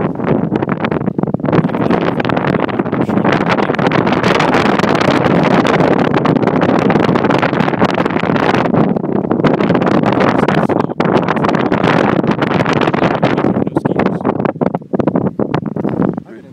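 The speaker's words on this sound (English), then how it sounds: "So the wind is blowing like." Strong wind blowing at altitude on a mountain at Snowbird ski resort in summer, a loud, continuous roaring buffet that hits the microphone hard and holds steady from start to finish.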